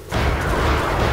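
Enemy gunfire in Delta Force: Xtreme 2: a sudden loud burst of dense, rumbling fire that starts abruptly and holds steady for about a second, with no voices.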